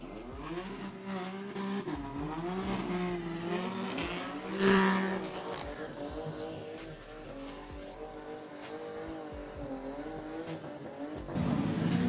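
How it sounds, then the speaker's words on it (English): A Fiat X19 fitted with a Honda VTEC Turbo engine launches hard at a no-prep drag race, its revving engine roaring loudly and steadily with tire squeal and a sharp surge of power near the middle, crowd noise underneath. "Popping wheelies here in a Fiat X19 powered by a Honda VTEC Turbo."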